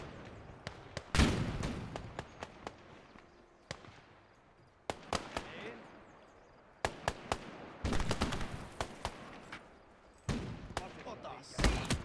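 Anti-infantry rifles hip fired in a video game battle: bursts of sharp, rapid gunshot cracks in irregular clusters, some close and loud, with quieter shots between and voices talking over the shooting.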